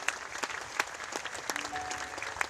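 Congregation clapping in praise of God at an evening healing crusade service in Manado, a dense steady patter with a few sharper claps, fairly faint and without speech.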